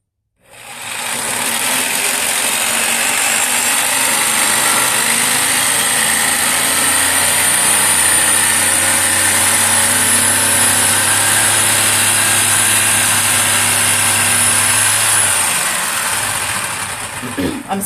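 An electric jigsaw cuts out a wooden heart-shaped sign, starting abruptly and running loud and continuous with a high whining buzz and rapid blade chatter for the whole stretch, without talk.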